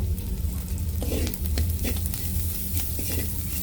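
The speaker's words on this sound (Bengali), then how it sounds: "কালো জিরেগুলো একটু ভাজা ভাজা করে নিতে হবে চিংড়ি মাছের সাথে।" Shrimp and black cumin seeds fry in hot oil, with a loud, continuous sizzle broken by scraping stirs and clinks of a utensil against the pan.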